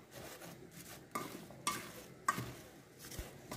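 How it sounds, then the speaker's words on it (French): A spoon stirs powdered turmeric and cinnamon in a saucepan, a soft continuous scraping with a few sharper clinks against the pan, fairly quiet and with no voice. "Je mélange bien, puis je mets la casserole sur feu d'eau."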